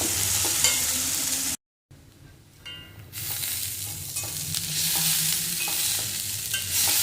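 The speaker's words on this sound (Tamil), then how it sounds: "அதில் இந்த அரைச்சி வச்சுருக்க அரைப்பும் கொட்டணும். லோ ஃப்ளேமில் கொஞ்சம் வதங்க விடணும்." Ground coconut paste sautéing in a pan over a low flame for a green gram and raw plantain thoran, a steady close sizzle with stirring scrapes and one brief drop to silence.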